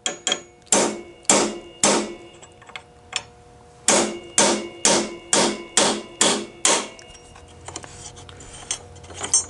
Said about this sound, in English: You smack it a couple times, get a divot going.